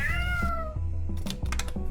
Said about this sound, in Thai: เหมือนแมวพวกนี้มันชื่อว่าวิทเทิล